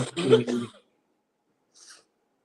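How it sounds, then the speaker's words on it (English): A single harsh cough bursts out close to the microphone, followed after a pause by a short, faint breathy exhale. "I have a bad cough"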